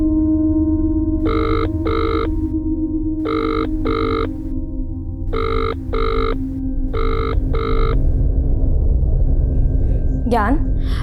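A telephone rings in four double bursts of electronic trilling over a constant low hum and rumble, each pair evenly spaced, followed by a brief sweeping tone at the end.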